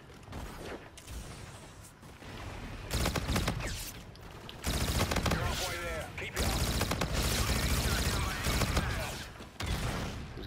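Automatic Type-2 gunfire in the Infinite Warfare video game, loud sustained bursts of rapid shots with brief gaps, mixed with game effects and someone talking over parts of it.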